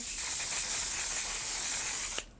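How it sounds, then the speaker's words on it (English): A steady, close hiss of One Size Mattifying Setting Spray misting lasts about two seconds, then cuts off abruptly. "we're gonna go with my favorite setting spray, which is the One Size Mattifying Setting Spray"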